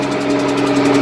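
An old tractor engine with a broken tachometer runs at a steady, close, loud idle, a low throbbing mechanical drone with faint knocking and no voices.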